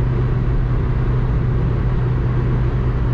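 A 1992 Citroen ZX engine drones hard at highway top speed, a loud, unbroken low rumble from inside the cabin with a steady pitch and no letup.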